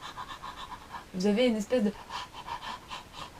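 A voice imitates a panting dog with throat breathing, a short burst of rhythmic, breathy, voiced pants that rises loud above quieter speech before and after.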